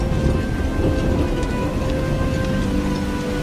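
Steady, dense rain pours down continuously at close range, with a low rumbling undertone that could be distant thunder, and no voices present.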